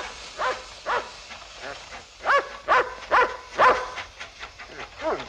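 A dog barks in a 1972 film scene, a string of about a dozen sharp, fairly close barks in uneven bursts, some doubled, with short pauses between.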